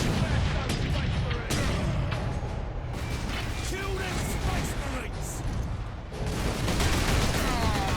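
Rapid gunfire rattles almost nonstop at orcs in Warhammer 40,000: Space Marine, loud and close bursts over battle clamor and mechanical clanks, with voices mixed in.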